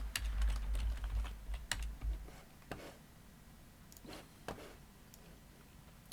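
Typing on a computer keyboard while configuring a network lab, with quiet, irregular keystroke clicks that come in a quick run at first and then in sparser taps, heard alone in a quiet room.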